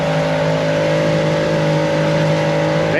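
Boat engine droning steadily at high speed with the FB365 towed behind, a loud, constant outboard roar with no breaks and no voices.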